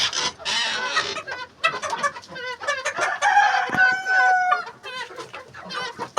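Chickens cluck and a rooster crows close by in a backyard poultry yard, with busy overlapping calls from several birds; the crow rises in the middle of the clip over continuous clucking and chirps.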